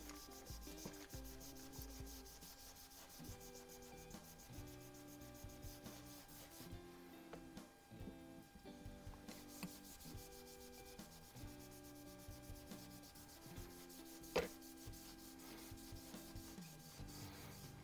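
Cloth rubbing copper fouling off a part from a Sheridan Series F Blue Streak CO2 airgun with Professor Pew CLP, a faint steady scrubbing and rubbing in close repeated strokes under low hum and a faint background tone.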